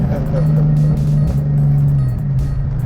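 A supercharged Fox Body Notchback pulls away with a loud, steady engine drone that rises and dips slightly as it drives off, heard from inside the car with no talking.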